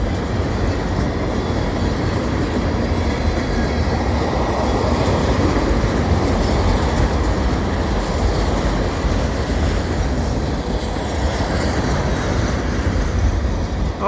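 A freight train rolls past Lachine EXO station on a winter afternoon, its heavy rumble and rattling cars holding loud and steady from start to finish, close by, with no one speaking.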